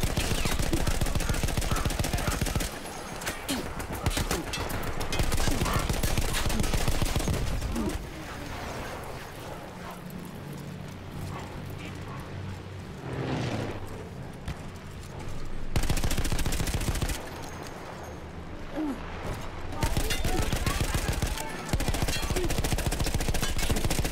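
Sustained machine gun fire from a mounted gun in the video game Battlefield 1, loud, close bursts of rapid shots broken by short pauses, with heavy rumbling battle noise filling the gaps.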